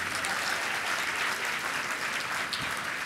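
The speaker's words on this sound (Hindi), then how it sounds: "एक बार जोरदार तालियां लगा।" Listeners at a Hindi religious discourse clap together on request, a continuous, even wash of applause from a large crowd, moderately loud and slightly distant, with no one speaking over it.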